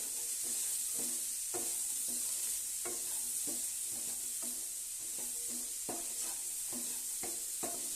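Bitter gourd fry with salt being stirred in a pan, a steady sizzle running throughout under repeated scraping strokes of a spoon against the pan.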